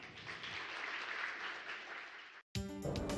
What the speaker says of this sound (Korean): 큰 박수와 함께 오늘 강연자를 모시도록 하겠습니다